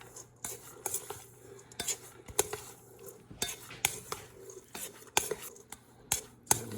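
Ingredients for a keto Thai chicken vegetable curry are scooped and mixed in a bowl, with irregular utensil clinks, scrapes and soft stirring knocks close by in a quiet kitchen.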